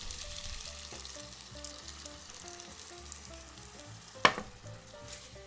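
Pasta sauce with shiitake thinned with starchy pasta water sizzles steadily in a pan, a soft continuous frying crackle with a single sharp clack near the end, no talking.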